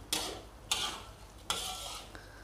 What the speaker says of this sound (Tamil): நல்லா எல்லா இடமும் அந்த சாஸ் வந்து படுற மாரி நல்லா கிண்டி விடுங்க